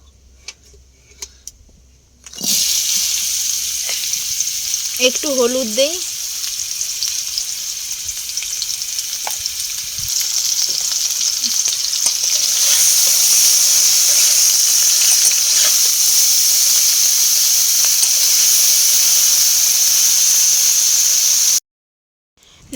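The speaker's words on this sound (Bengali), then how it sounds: "কড়াইতে তেল দিয়েছি, এবারে ডাঁটাগুলো ভাজবো।" Chopped vegetable stems frying in oil in a wok with salt and turmeric: after a quiet start a loud, close, continuous sizzle takes over and builds in intensity, with a few light clinks and one brief spoken remark early on.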